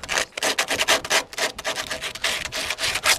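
Hand sanding of metal burrs off the window edge of a VW T5/T6 van, heard as close, loud, rhythmic scraping strokes in quick back-and-forth bursts with no talk.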